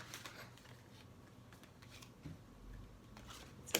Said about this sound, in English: I'm just shuffling and placing them.